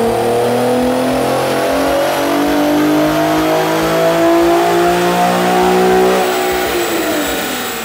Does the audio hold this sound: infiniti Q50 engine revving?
yes